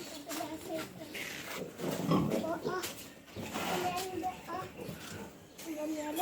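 Pig grunts mix with children's voices and chatter nearby, the snorting sounds coming in short bursts amid lively talk.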